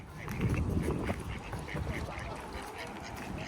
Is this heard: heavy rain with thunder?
no